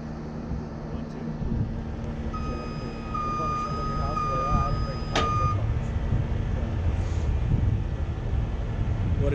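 Alarm on a rotator tow truck while it slowly rotates during a fire department cross-training exercise, a steady electronic beeping tone repeating over engine rumble, wind noise and nearby talk.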